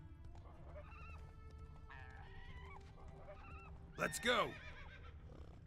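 Roach the horse in The Witcher 3 gives a sharp, loud whinny near the end, with faint game sounds and brief talk earlier in the scene.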